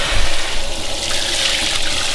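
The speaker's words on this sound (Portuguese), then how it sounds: "Michael, liga a água!" Water runs steadily from a hose onto a dusty Porsche Panamera for a wash, a continuous broadband rush that stays loud and close from start to finish.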